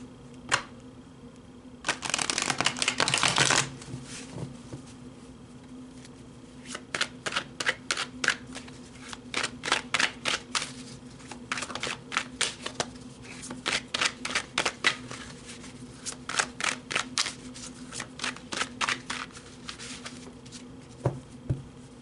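A deck of tarot cards is riffled in a quick, crisp burst, then handled with a long run of light rhythmic snaps and taps as the cards are shuffled and squared, close and fairly quiet over a low steady hum.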